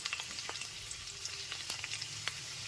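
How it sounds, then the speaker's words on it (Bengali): Diced potatoes frying on a medium gas flame while being stirred, a faint steady sizzle broken by soft, irregular spatula scrapes and clicks. "গ্যাসের ফ্লেমটা মিডিয়ামে রেখে আলুটা একটুখানি নাড়াচাড়া করে নিচ্ছি"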